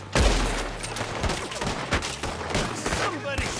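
Heavy gunfire from a shootout in the video game Red Dead Redemption 2, with rapid overlapping shots and loud bursts throughout, and a voice shouting over the battle.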